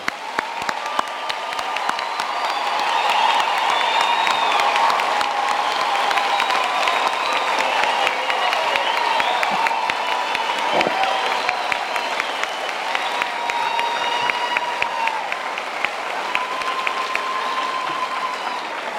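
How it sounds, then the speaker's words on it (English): An audience at a university graduation ceremony applauds the graduates, with sustained, dense clapping from a large crowd in a hall that swells and holds steady for a long stretch. "I think we can give all our graduates now a hand of applause"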